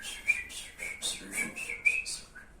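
A person whistles in imitation of birdsong, producing a string of short, bright chirping notes in a quick, uneven rhythm, close and clear with no talk over it.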